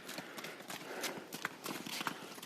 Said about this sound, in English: see the donkeys coming down